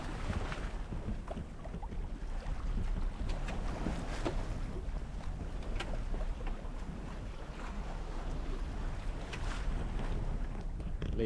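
A sailboat under spinnaker on a broad reach in the Mediterranean at about five knots, with continuous water rushing along the hull and gusting wind buffeting the microphone, and no voices.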